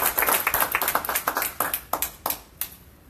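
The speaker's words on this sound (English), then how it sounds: "with rousing applause, let's welcome Glenn Bott to the front of the room" Audience claps to welcome a presenter at a small business-education event, brisk close hand claps that are dense at first, then thin out to a few scattered claps before fading.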